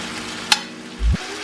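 Soft steady sizzling of beef frying in a pan, with a brief clatter and a low thump as it's turned.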